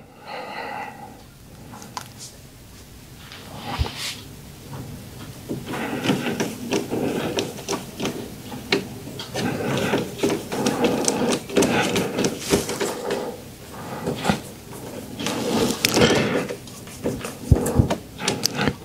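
Small screws being fitted and tightened into a G-sensor bracket on a Creality Ender 3 V3 KE 3D printer, close-up scattered clicks, light scraping and tool rattles over a steady background hum.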